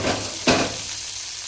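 Green and red chillies dropped into hot ghee in a pan give a short sharp burst of frying, then a steady soft sizzle carries on alone.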